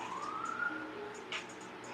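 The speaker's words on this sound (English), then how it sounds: "okay sirens, you can stop." A siren wails in a rising sweep, fairly faint and distant, with a brief sharper burst of noise near the end.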